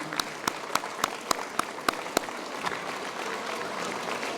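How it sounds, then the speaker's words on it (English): Several sharp, evenly spaced claps ring out at a retirement banquet, then blend into a softer, continuous wash of audience applause. "let's already do a round of applause for all of our retirees ahead of time."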